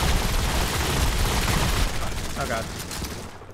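Rapid automatic gunfire from a multiplayer match in the video game Modern Combat 5 makes a loud, continuous fusillade that thins out near the end, with a player briefly talking over it.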